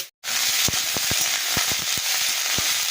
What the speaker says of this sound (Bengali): ফুলকপিটা আমি খুব লাল লাল করে ভেজে নেবো